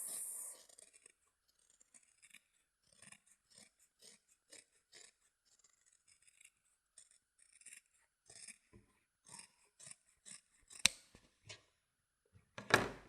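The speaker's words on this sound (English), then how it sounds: "And I'll take my scissors." Scissors snip along a fabric seam allowance while sewing a bag, a series of faint, close, irregular cuts and rustles that grow louder toward the end.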